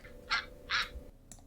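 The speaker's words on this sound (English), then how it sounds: "Duck." Two short, nasal quacks about half a second apart, fairly faint, followed by quiet.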